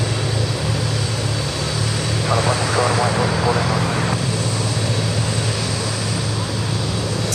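Aircraft engines roar at Sydney Airport, a loud continuous drone of jet and propeller aircraft near the runways, with a voice talking over it partway through.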